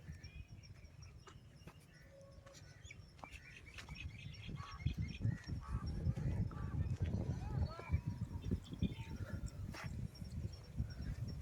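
Birds chirp and call around a green Tamil village near the Kerala border, scattered faint tweets over a low rumble, the background growing busier and louder in the second half.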